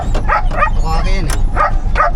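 Dog barking and yipping in repeated short bursts, fairly close, with people talking over and around the barks in an outdoor setting.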